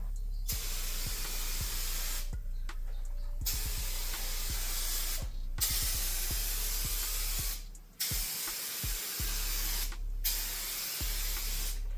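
Steady hissing of a turbo spray paint can spraying a Honda Civic in long bursts separated by short pauses, close and continuous, with faint clicks between passes.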